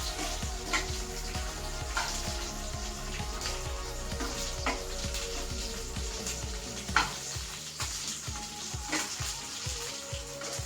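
Tomatoes sizzle and fry in a pan for raw mango chutney, a steady close crackle broken by repeated stirring scrapes, with no voices.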